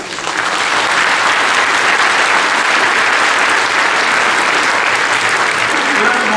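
A large audience claps steadily and loudly, a dense, sustained wash of applause that holds at the same level throughout.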